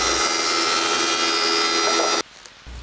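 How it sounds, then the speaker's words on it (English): A thickness planer feeds 3/4-inch cedar stock, a loud, dense whining roar running steadily for about two seconds before abruptly cutting off to a low, quieter hum. "The 3/4-inch stock went through my planer first."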